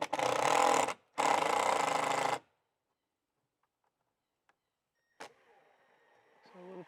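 A power driver sets screws into a wall to mount the power supply for a Netgear Orbi RBS50Y outdoor satellite. Two loud, close whirring bursts separated by a short gap, then near silence and faint handling noises.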